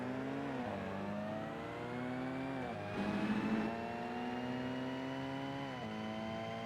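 A Mazda MX-5 race car in Forza Motorsport pulls away from the starting grid, its engine note climbing steadily through gear changes with brief dips at each shift, a steady close whine with no voices.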